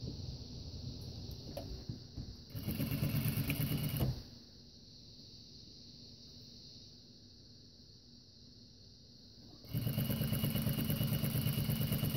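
A sewing machine stitches a zip bag, whirring loudly in two bursts separated by a quieter stretch of idle hum.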